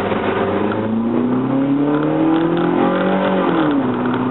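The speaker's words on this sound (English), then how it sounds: "we're gonna go do some really quick acceleration" A Nissan Versa accelerating after a fuel pressure regulator repair, its engine note rising steadily as it revs up through the run, heard from inside and loud throughout, with a short dip near the end.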